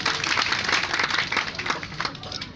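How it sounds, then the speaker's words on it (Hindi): A crowd gives lively, close applause at a prize-giving ceremony held at a cattle fair, the many hands clapping in a thick, uneven patter that fades slightly near the end. "इनके लिए भी जोरदार ताली हो जाए"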